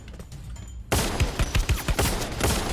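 Rapid bursts of gunfire from the Free Fire video game burst in suddenly after a quiet start, with a rattling volley of close shots repeating unevenly through the rest of the moment.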